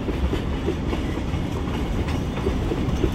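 A train rolls past close by on railroad tracks, its wheels beating a steady clickety-clack rhythm over a continuous rumble, with no voices.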